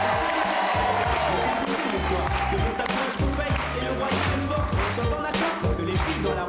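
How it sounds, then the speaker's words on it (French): Studio audience at a French TV game show clapping and cheering loudly and continuously, with music and rhythmic thumps underneath. "On peut applaudir super Clément."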